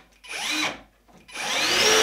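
A power drill drives screws into IKEA Malm furniture, two close, loud whirring bursts separated by a short pause.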